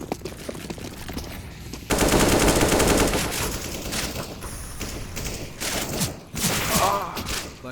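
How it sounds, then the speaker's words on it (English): Rapid automatic rifle fire and gunshots in a Counter-Strike match, loud bursts of rattling fire with thuds and mechanical clicks, fighting through smoke as a caster's voice runs underneath. "But Greens there shooting in through the smoke"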